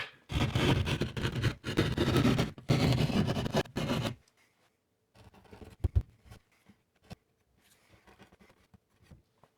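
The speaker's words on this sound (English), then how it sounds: "make sure you cut straight, cut the whole square right out." A square access-panel hole is hand-cut in drywall. Loud, close rasping saw strokes run for about four seconds, then give way to near quiet with scattered scrapes and taps.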